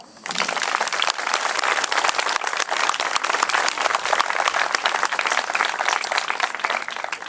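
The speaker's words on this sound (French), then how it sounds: "Je crois qu'on peut les applaudir" Sustained crowd applause fills a municipal gathering after a mayor's address, many hands clapping steadily and loudly throughout with no voices above it.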